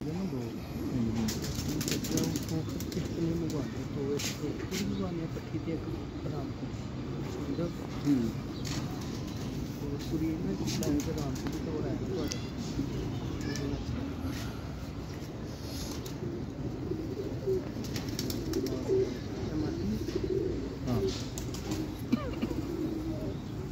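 Fancy pigeons of a prized breeding pair cooing steadily and close by, with soft overlapping calls layered over a continuous backdrop of talk and ambient noise.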